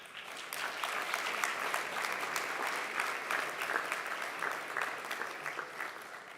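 Sustained applause from a commencement ceremony audience in Geneva, steady dense clapping from a large crowd that holds at an even level throughout.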